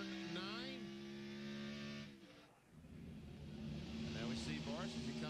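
An onboard Ford race truck's engine climbs through gears at Watkins Glen while accelerating hard off a corner, roaring steadily with a brief dip between shifts, and a commentator talks over it.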